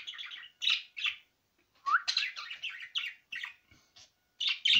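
Close, bright bird chirps come in quick bursts separated by short pauses, with no other sound around them.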